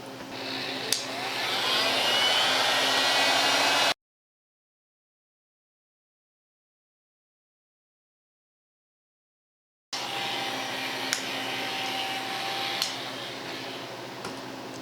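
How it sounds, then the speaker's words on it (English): A heat gun blows on the glued joint of an antique oak table, a steady rushing hiss with faint ticks, cutting out to silence midway before resuming at the same level. "there's no way this heat gun's going to heat up the glue in the middle of this wood without singeing and doing some damage here"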